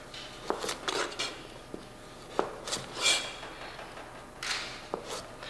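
A kitchen knife cuts Swiss chard wrap vegetables into thin julienne strips on a board, with irregular, fairly faint wooden taps and chops separated by pauses.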